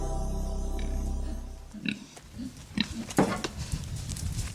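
Young pigs born in a research laboratory grunt and snuffle close by, a low steady rumble giving way to short irregular grunts and squeals, with no talking.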